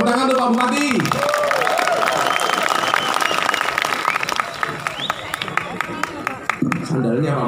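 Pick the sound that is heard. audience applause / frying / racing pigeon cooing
audience applause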